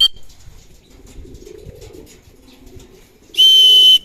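Racing pigeons at a loft in Urdaneta, Pangasinan, soft low cooing murmurs throughout, with a brief sharp whistle at the start and a loud piercing whistle near the end.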